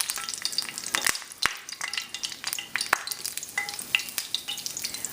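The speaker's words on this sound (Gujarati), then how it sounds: "આમાં પહેલાં હું નાખીશ લીમડો, ને જો મારું તેલ ફાઇન ગરમ છે" Fresh curry leaves sputter and crackle in hot oil in a pan for a Gujarati chicken curry, a close and steady sizzle dotted with sharp pops and spits, with no one speaking.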